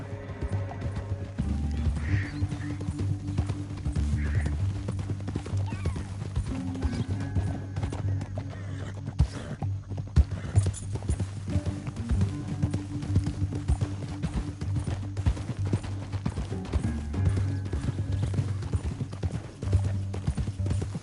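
Horse hooves clip-clopping in a fast, steady gallop with occasional whinnies, over a low rumbling musical background, in the video game Red Dead Redemption 2.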